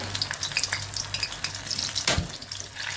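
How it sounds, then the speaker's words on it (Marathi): Stuffed pea (matar) rolls fry in hot oil on medium heat, giving a close, steady sizzle and bubbling crackle with a sharp burst about two seconds in. "आपलं तेल तापलेलं आहे, त्यामध्ये आपण केलेले रोल सोडूया."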